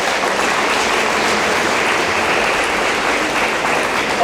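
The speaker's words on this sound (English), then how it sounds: "let's give them a round of applause here real quick" Sustained applause from a banquet audience honoring football players, a dense, even wash of many hands clapping at steady loudness throughout.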